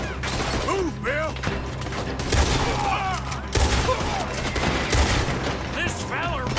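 Heavy gunfire rattles through a Red Dead Redemption 2 shootout, with dense overlapping volleys and bursts that stay loud and continuous, punctuated by sharper booming shots and voices calling out underneath.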